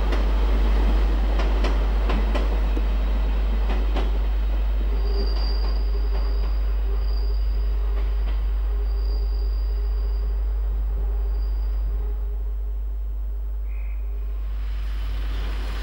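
A British Rail Class 158 diesel train passes steadily with a low engine drone, rhythmic wheel clicks early on and a thin high squeal, fading near the end.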